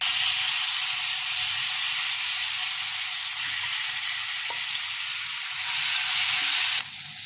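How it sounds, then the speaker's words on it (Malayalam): Boiled ripe plantain pieces fry in ghee, a steady close sizzling hiss that swells louder briefly near the end before easing, with no talk over it. "നെയ്യിലിട്ട ഈ പഴം നല്ലതുപോലെ വരട്ടിയെടുക്കണം"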